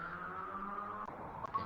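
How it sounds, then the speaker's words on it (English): Two synthesizer oscillators synced together, a faint, steady buzzy tone that holds continuously with a few small clicks near the end. "So all you'll hear is oscillator 1 and 2,"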